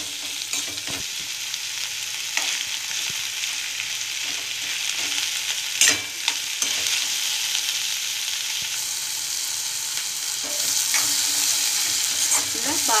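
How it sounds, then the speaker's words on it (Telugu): Tomatoes added to browned onions frying in a pan for brinjal pachhi pulusu give a continuous close sizzle with occasional stirring clatter and a brief knock, no voices. "ఉల్లిపాయ సొమ వేగిన తర్వాత టమాటాలు కూడా వేసుకొని వేయించేసుకోండి"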